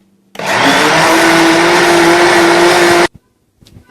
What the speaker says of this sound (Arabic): ندير كلشي في خطره هكا في الكاس ديال المولينيكس وغادي نخلطو مزيان